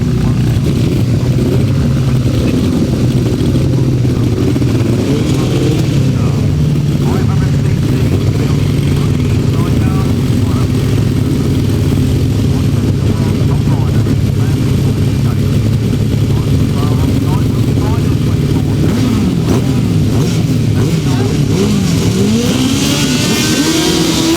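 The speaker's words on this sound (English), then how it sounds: "I heard a big roar of motorbikes." 1000cc sidecar motorcycle engines roar and rev together at a grasstrack race start in a loud, continuous, churning din, with a crowd or announcer's voice faintly underneath.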